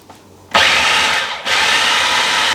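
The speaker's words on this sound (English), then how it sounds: "And then whisk this up. It's going to get pretty loud, so sorry." An electric blender whisks a chicken liver pâté mixture: a loud, steady whirring motor starts abruptly, dips briefly, then roars on at full speed close up.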